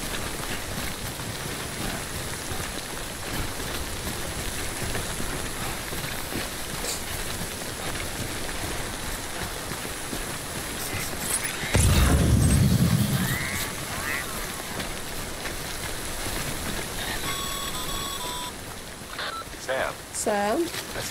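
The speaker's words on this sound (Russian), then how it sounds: "Очень вовремя дождь, когда у меня груз с собой" Steady rain pours throughout in the video game Death Stranding, a dense, even hiss with a louder splashing swell midway and someone talking over it.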